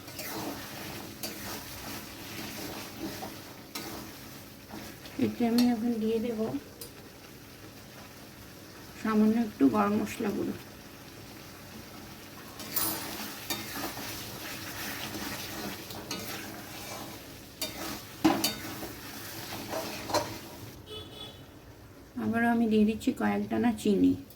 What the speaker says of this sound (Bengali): আবারও মশলাটা আমি ভালোভাবে কষিয়ে নেব আর তার সঙ্গে আমি অ্যাড করে দিচ্ছি তিনটে কাঁচা লঙ্কা